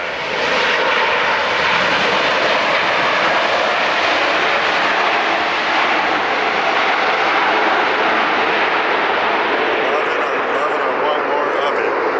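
An SAS airliner in new livery lands at LAX in a headwind, floating along the runway; its engines roar loud and steady throughout, a broad continuous rumble with no pauses.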